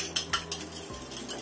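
A spoon stirs a sugar and egg mixture in a bowl, giving a run of quick, close metallic clinks and scrapes against the dish with no talking.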